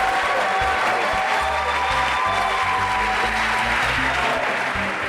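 An audience at a university semifinal show applauds the judges, steady dense clapping from a large crowd that fills the whole stretch at an even, fairly loud level.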